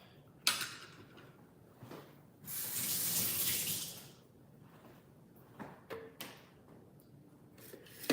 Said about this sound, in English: Let me wash these off real quick.